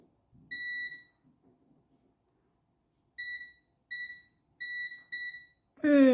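Multimeter continuity beeps while probing a badly corroded Game Boy Advance: one beep, a pause, then four short tones in quick succession, followed by a brief burst of other noise.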